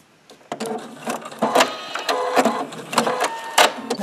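Short bursts of a sewing machine stitching off the end of a seam into the seam allowance, several quick runs with brief pauses between, close and fairly loud.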